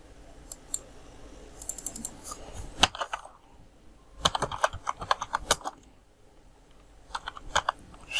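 Typing on a computer keyboard, with bursts of rapid key clicks separated by short pauses, close and crisp in a quiet room.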